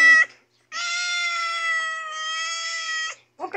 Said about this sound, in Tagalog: May alaga rin tayong pusa.